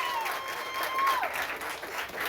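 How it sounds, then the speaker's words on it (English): A crowd applauds young men honored after serving at a mother's mental maintenance event, a dense, steady wash of clapping over the whole stretch, with a faint whistle-like tone drifting through it. "Give these young men a round of applause"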